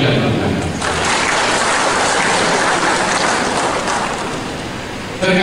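Sustained, dense applause from a large crowd fills a mayoral inauguration ceremony in Bengkulu, rising quickly and holding steady for several seconds before tailing off near the end.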